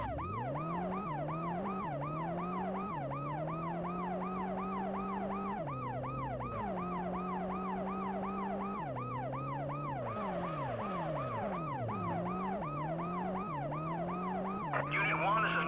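Ambulance siren in the PlayStation police-chase game World's Scariest Police Chases, a loud continuous wail that cycles rapidly up and down, shifting between yelp and slower sweep patterns over a steady engine drone.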